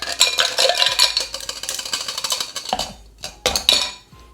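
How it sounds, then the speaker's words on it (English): Ice clinks and rattles steadily against a mixing glass as a coffee Negroni is stirred down, a busy close metallic-glassy churn that pauses briefly near the end before a few final clinks. "We're gonna give this a good stir down."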